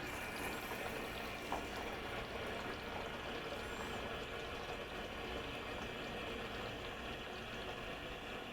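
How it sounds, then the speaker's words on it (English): A Nuvo H20 water treatment system hisses steadily as it fills back up to pressure after a cartridge change, a faint continuous watery rush with a small knock partway through. "that hissing sound that you hear right now, that will actually change and eventually stop"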